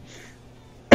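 A single short, sharp cough bursts out right at the end of a near-silent moment during a tech talk.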